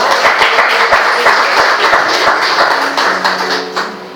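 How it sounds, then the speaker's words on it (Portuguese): A church congregation claps for God during a sermon, a loud burst of many hands with distinct nearby claps standing out, tapering slightly toward the end as a voice begins under it. "Você pode aplaudir a Deus por essa palavra?"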